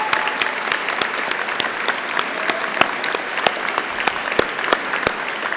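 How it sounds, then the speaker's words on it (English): Audience at an Open University degree ceremony in Ely claps steadily, a dense, sustained round of applause from a large crowd heard from within the hall. "let's give them a huge round of applause too"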